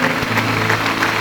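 Audience applause in a church, a brief burst of dense clapping that fills the moment loudly and evenly, without talk.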